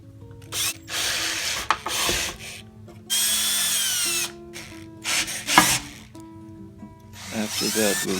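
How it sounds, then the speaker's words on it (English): Power drill bursts whirring on and off several times, drilling holes in an LED light enclosure for cable grips, with scraping and tool handling in between, close by. "we'll drill holes for the cable grips"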